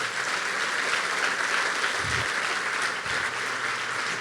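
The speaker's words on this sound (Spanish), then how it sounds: "Vamos a darle un fuerte aplauso al Señor" Church congregation applauding during a sermon, a dense sustained clapping wash at moderate distance, with a couple of brief low thumps partway through.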